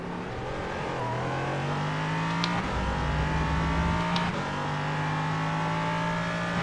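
LMP3 prototype race car in the iRacing simulator, its engine holding a steady drone with gear-change dips and rising revs, loud and continuous with no talk.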